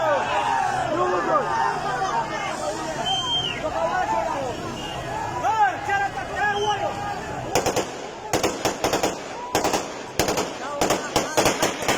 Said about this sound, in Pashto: مخامخ ډزونه کوي، خلکو باندې مخامخ ډزونه کوي